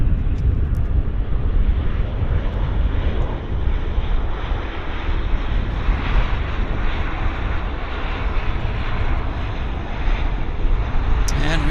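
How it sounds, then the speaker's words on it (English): A Boeing 787 Dreamliner on its takeoff roll at Vancouver Airport gives a loud, continuous broadband engine roar, heard from outdoors with wind buffeting the microphone throughout. "It's a 787 Dreamliner on the roll"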